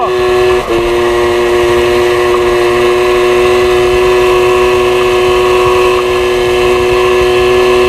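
An MBK 51 moped engine with a modified airbox strains up a hill, a loud, sustained buzzing drone holding a steady high pitch, with a slight dip early on.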